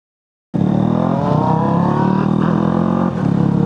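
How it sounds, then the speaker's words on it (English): A motorcycle fitted with a Black Widow full-system exhaust, running steady and loud from close by, with a deep rumbling tone and a slight dip near the end; no voices. "His bike sounds so good. It's got a Black Widow exhaust on it."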